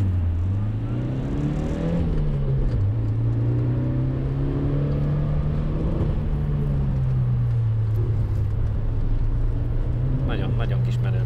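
A Daihatsu Charmant is driven fast on a gravel track, and its engine drones steadily, rising and falling in pitch as the car speeds up and eases off. Tyre and road rumble run underneath, and people talk inside the car throughout.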